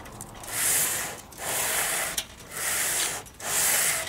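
A radius block sands across a guitar neck inlay in slow, even back-and-forth strokes, producing close, loud rasping swishes at a steady rhythm.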